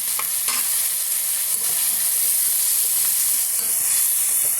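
A spoon stirs jackfruit curry in a hot pan, loud continuous sizzling and frying hiss with soft scraping strokes of the utensil running through, close and steady, no talking.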